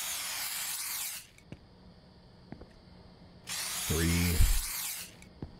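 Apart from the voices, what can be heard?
mouse spray being sprayed in horror video game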